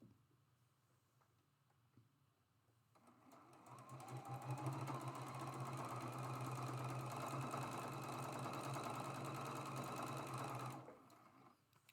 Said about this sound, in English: we're sewing these together with a 1/4 inch seam